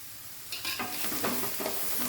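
Onions with a pinch of salt sautéing in oil over a high flame in a regular pan on a small burner, a steady close sizzle with scraping stirs setting in after the first half second.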